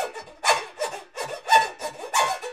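Kabasa-like scraping imitated by fingernails rubbing, with a wedding ring helping, in a rhythmic pattern of about seven close, fairly loud strokes, each a bright rasp with no talking.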